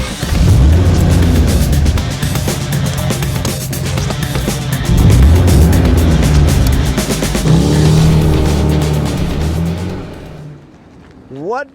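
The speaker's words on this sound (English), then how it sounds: "let's hop in, let's go for a drive, let's check out this beautiful 1986 Ford F150" A 1986 Ford F150 XLT Lariat pickup truck drives along with a steady, loud engine and road rumble that swells and eases, with voices talking over it before the noise drops away near the end.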